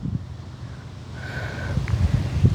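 Wind blowing outdoors, a low rumbling rush against the microphone that builds slightly louder toward the end, with no voices.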